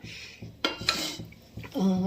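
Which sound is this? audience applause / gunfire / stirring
stirring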